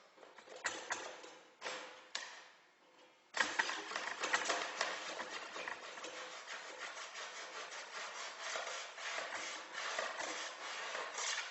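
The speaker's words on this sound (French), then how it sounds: "une fois que c'est sec, on recommence, on gratte." Dried filler on a snowboard base is scraped with repeated rasping strokes: a few separate scrapes, a short pause, then a sustained run of quick, close scraping.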